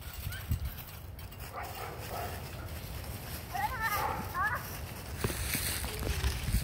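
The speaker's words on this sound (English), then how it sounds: "Oh, I hear a big dog." A big dog barks at some distance, a few faint barks under rustling footsteps and outdoor background noise.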